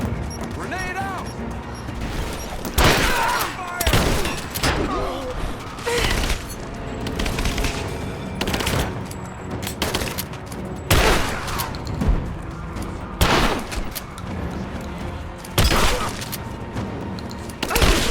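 Combat in the Rise of the Tomb Raider video game: repeated bursts of gunfire and heavy explosions, including a grenade blast, crack out at irregular intervals over constant battle noise, with shouted voices in between.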